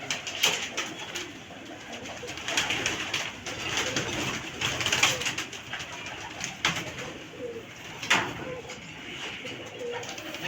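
Pigeons kept in pairs in a home loft coo repeatedly, soft rounded calls rising and falling close by, with occasional sharper chirps and rustling throughout.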